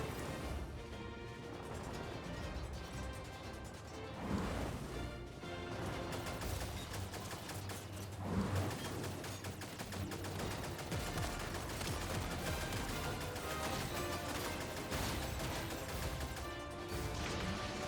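Repeated explosions and blasts in Star Fox amid continuous game music and effects, dense crashing bursts recurring throughout at a steady loud level.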